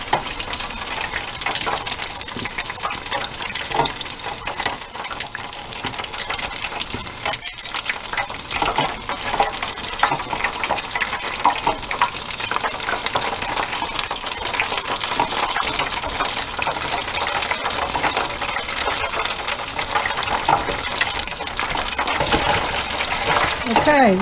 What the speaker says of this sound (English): just make sure that all sides get a nice browning in the oil